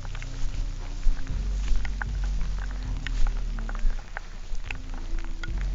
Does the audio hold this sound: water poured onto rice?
no